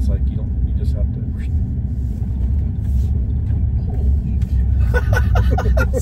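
A Tesla Cybertruck swings through a tight U-turn, its low rumbling road and motor noise steady and close throughout, with people talking excitedly inside over it.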